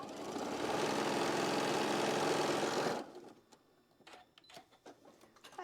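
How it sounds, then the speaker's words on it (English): A sewing machine runs a quilt block seam out to the edge in one steady, close, continuous whir for about three seconds, then stops, leaving soft rustles and small handling knocks. "and then sew to the edge"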